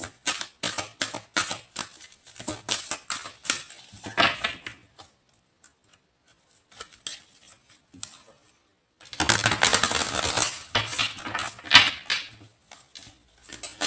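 Tarot cards shuffled by hand in quick bursts of crisp flicking and riffling, close up, with a quiet pause in the middle before a second, louder run of shuffling.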